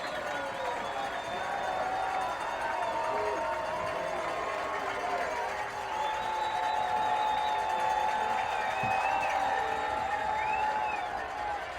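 Crowd noise at a college football game in Nelson Stadium, a broad sustained roar of voices held under clear commentary, with a few distant whistles and shouts rising above it.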